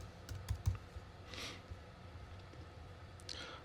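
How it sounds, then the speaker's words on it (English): Quiet typing on a computer keyboard, a few soft quick key clicks clustered near the start, then sparse light taps with faint background hiss. "So let me type that out."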